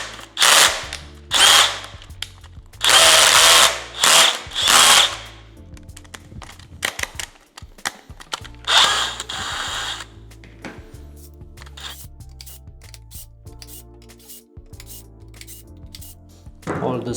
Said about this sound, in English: So now we can move the screws from the subwoofer.